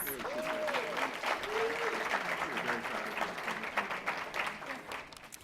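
Audience applauding graduates at a 2018 Black graduation celebration, a steady wash of clapping from a crowd throughout, with a voice speaking over it.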